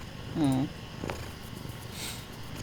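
A big cat purring close by, a soft low rumbling vibration with a louder burst near the start over quiet room background.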